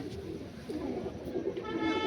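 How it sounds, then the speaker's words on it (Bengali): A Malwai pigeon cooing softly up close, a couple of low throaty coos over faint background noise. "এই হচ্ছে পায়রা"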